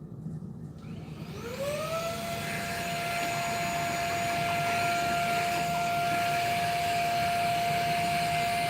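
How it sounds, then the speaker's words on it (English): A vacuum cleaner cleans lint out of a serger. After about a second of quiet room tone, the motor spins up with a rising whine, then runs as a loud, steady drone to the end with no talking. "I'm just gonna vacuum it out really quick."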